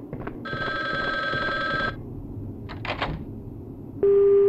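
Telephone ringing inside a restaurant in the game Resident Evil: Gun Survivor, a steady electronic ring tone held for over a second, then short chirps and a sharp tone over low game ambience.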